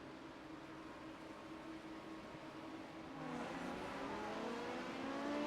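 An LMP2 prototype race car in the iRacing sim exits the pits with GT3s and hypercars behind, its engine droning steadily, then rising in pitch as it accelerates through the gears, fairly quiet overall.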